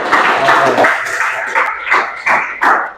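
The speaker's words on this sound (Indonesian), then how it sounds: "tepuk tangan untuk kelompok 1" A classroom group of students claps for group 1, loud and close, in a string of sharp, uneven bursts that swell and break off several times, like a patterned class clap.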